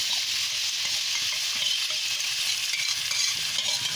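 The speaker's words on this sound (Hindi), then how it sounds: "अब हम इसमें जो मैरिनेट किया हुआ चिकन है वो डाल लें।" Marinated chicken frying in a pot with browned onions gives a loud, steady, hissing sizzle that stays even and close for four seconds, with no voices.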